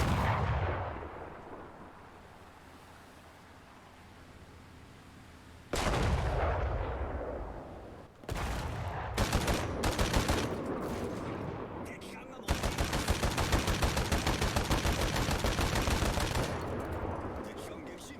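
Naval gunfire from warships in War Thunder, a quiet stretch followed by heavy booming salvos and sustained rapid firing, loud and dense through the second half.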